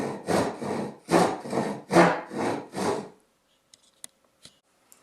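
A small handsaw cuts basswood in six quick, rasping back-and-forth strokes, then stops, leaving a few faint clicks in near silence.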